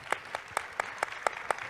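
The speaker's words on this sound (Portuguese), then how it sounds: "uma salva de palmas para Carlo Petrini" At a food-sovereignty conference in São Paulo, hands clap in a faint, steady rhythm of about four sharp claps per second, each clap crisp and distinct against a quiet room.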